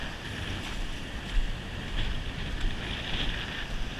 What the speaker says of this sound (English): all these waves are rolling in and creating a lot of great whitewater